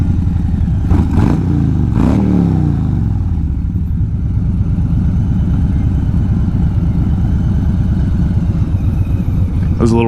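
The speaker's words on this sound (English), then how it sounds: "There's a little rev bomb for y'all." A Harley motorcycle engine idles with a steady low rumble, blipped twice in sharp revs near the start, then settles back into a loping idle close to the microphone.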